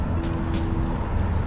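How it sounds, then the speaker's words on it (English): Road traffic rumbles on a coastal highway, a steady low roar of passing cars and heavier vehicles with whooshing swells as they go by close. "a lot of traffic"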